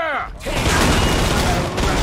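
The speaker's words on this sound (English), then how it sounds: "Excellent shooting." A rapid burst of gunfire comes from a shooter game on the Dust 2 map, loud and dense for nearly two seconds. A voice is heard briefly just before the shots.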